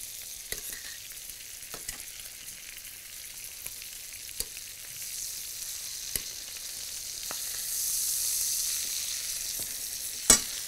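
Chicken pieces sizzle in a hot pan as they are turned over, a steady soft frying hiss broken by occasional sharp clinks and taps of a utensil against the pan, swelling briefly louder near the end.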